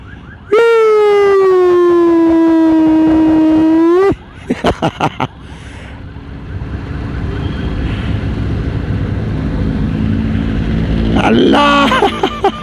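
A loud wailing ambulance siren rises and holds for a few seconds, then stops abruptly, followed by rumble from stalled traffic and a voice speaking near the end.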